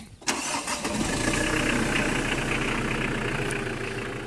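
A 2.8-liter turbo diesel engine cranks briefly, then catches and roars into a loud, steady rumbling idle close by.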